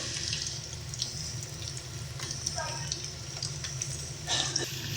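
Fenugreek and cabbage fritters sizzling in a pan of hot oil, a continuous close crackle with occasional sharper pops and light clinks as they are turned, while a voice murmurs faintly in the background.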